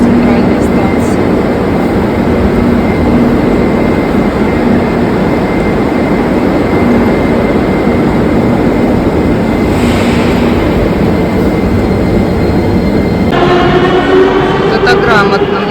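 A Sofia metro train pulls into Serdika central station with a loud, continuous rumble and roar filling the platform, shifting to a higher whine and squeal near the end.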